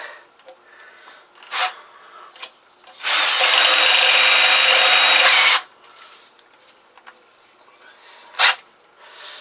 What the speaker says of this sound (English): the drill is walking, so it's going off to one side